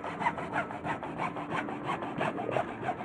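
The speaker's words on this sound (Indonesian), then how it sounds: "digergaji pakai gergaji besi, jangan pakai gergaji kayu karena terlalu besar" Hacksaw cutting through the plastic casing of a worn-out motorcycle battery, a steady run of rhythmic rasping strokes, about three per second, close and loud with no talk.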